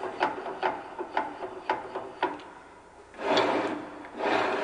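Vise jaw on a BS-712N/BS-712R metal cutting band saw sliding quickly toward a workpiece: a run of evenly spaced scraping strokes followed by two longer rasping slides, close and moderately loud.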